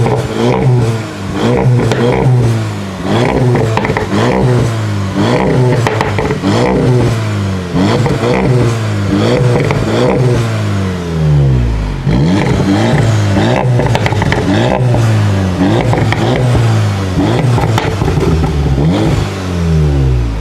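A 2018 Volkswagen Golf R engine revving through an Akrapovic exhaust, loud close repeated blips rising and falling in pitch, with pops and crackles between revs.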